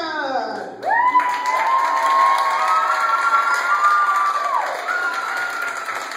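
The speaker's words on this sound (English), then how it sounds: "let's give a great big hand to Michael Singleton!" A children's audience at a Rainbow puppet dinosaur show cheers and shouts loudly and steadily for several seconds, with clapping mixed into the roar and a high sustained voice or tone running through it.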